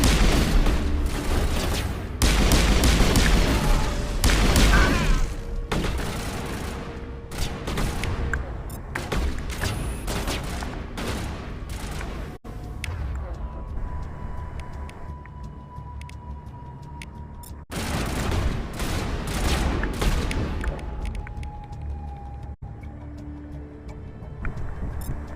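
Rapid weapon fire in Mass Effect 1, with bursts of loud gunfire and booming blasts at the start, then sparser shots and booms over a lingering rumble.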